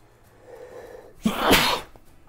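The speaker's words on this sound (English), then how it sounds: "Sneezing away here." A single loud, close human sneeze with a short intake of breath before the sharp burst, heard alone against quiet room tone.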